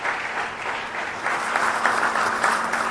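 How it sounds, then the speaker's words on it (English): Steady audience applause at an award ceremony, a dense, even wash of many hands clapping that holds fairly loud throughout with a faint low hum beneath. "a second round of applause for volunteers"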